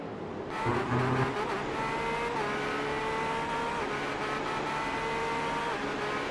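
Onboard engine of a college prototype race car at the Florida Grand Prix, a loud sustained buzzing drone that climbs through the gears with brief shifts, close-miked and steady, with no voices.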